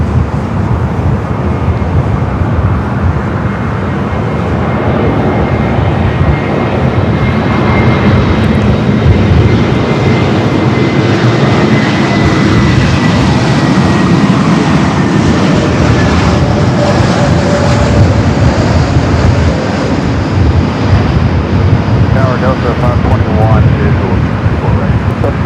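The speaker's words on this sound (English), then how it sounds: "We do China Eastern, that 777, and running late here today, almost 2 hours late." A China Eastern Boeing 777 jet rolls for takeoff at LAX, its engines making a steady, loud, rumbling roar that fills the whole stretch, with voices heard faintly alongside.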